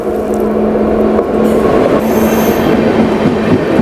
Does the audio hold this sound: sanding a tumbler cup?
no